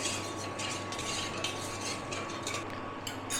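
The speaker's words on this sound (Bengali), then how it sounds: "ভালো করে মিশিয়ে নেবো চিনিটা।" Sugar syrup for gulab jamun stirred in a pan, a steady close-up swishing and scraping of a spoon in a continuous rhythm over a faint low hum, no talking.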